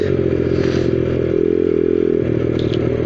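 Honda Dax 50 minibike engine buzzing steadily while riding in cold weather, a loud, close, rattly small-engine drone with slight rises and dips in revs.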